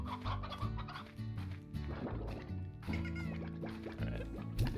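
Normal hens clucking on a ranch in the Slime Rancher video game, repeated clucks mixed with a busy layered game soundtrack, no voices over them.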